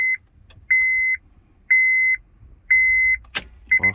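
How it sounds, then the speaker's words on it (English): A car chimes as its ignition is switched on and off, a series of evenly spaced electronic beeps, each about half a second long, with a sharp click near the end. "Turn off the ignition. Turn on the ignition."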